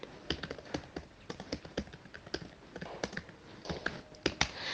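Fingers type a C++ program on a computer keyboard, a close run of crisp, irregular key clicks with short pauses and a few heavier taps, no voices.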